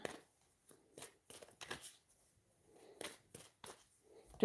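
A deck of angel cards is shuffled in short bursts of crisp riffling and slapping, close and quiet, with pauses between each burst.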